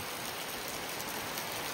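Steady rain pours down in an unbroken, even hiss that stays fairly soft and continuous throughout, with no voices.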